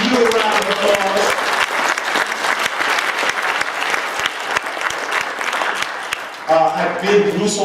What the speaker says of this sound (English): Let's give the U a round of applause